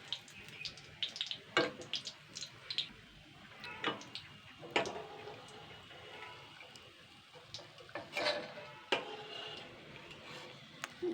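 Fried boondi for white bonde, a Kamarpukur sweet, being lifted from hot oil with a strainer: faint sizzling under scattered sharp metallic clicks and light splashes, close and fairly quiet.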